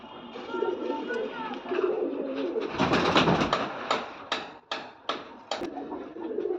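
A male pigeon coos in low, soft, rolling calls, followed by several sharp rustling bursts, likely from wing movement, close by with no talk.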